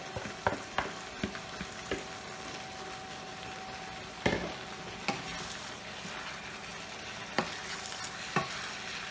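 Carrots for a bolognese sizzle and fry in a pan, a soft, steady crackle broken by repeated scraping and clacking as a utensil stirs them at irregular intervals.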